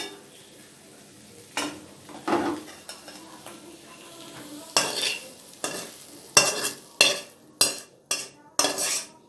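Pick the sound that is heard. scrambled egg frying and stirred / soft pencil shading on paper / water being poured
scrambled egg frying and stirred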